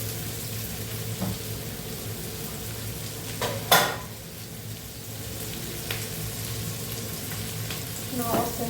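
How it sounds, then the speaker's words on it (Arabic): Egyptian-style homemade sausage fries with garlic in a pan, giving a steady close sizzle. It is stirred with occasional utensil scrapes and one sharp clatter of pan or cutlery partway through, with no one talking. "نقص النار شوية، اديله تقليبة"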